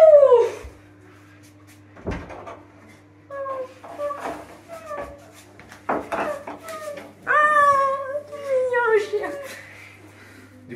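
Dog whimpering in a series of high, thin whines and short yelps, some rising or falling in pitch, over a steady low electrical hum, with a few clicks and bumps between them.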